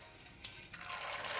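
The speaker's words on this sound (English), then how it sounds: "deep fry our vermicelli" Rice vermicelli hits hot oil and puffs up almost instantly, making a rising, hissing sizzle and crackle that grows louder and fuller over a second and a half, with no voices.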